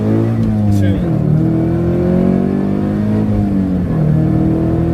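A modified Scion FR-S engine revs and accelerates up through gears, pitch rising and dropping with shifts, loud and close with a steady droning rumble.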